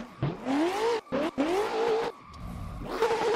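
A car drifting in Assetto Corsa, driven on a controller: its engine revs rise and fall in repeated wailing sweeps, cut by brief drops between them, with loud, steady tire noise underneath.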